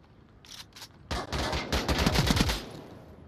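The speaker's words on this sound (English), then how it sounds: "I shot him like 3 times before he died." Gunfire in the VR shooter Onward, a quick burst of several sharp, close automatic shots after a couple of quieter earlier pops, ringing against a faint background.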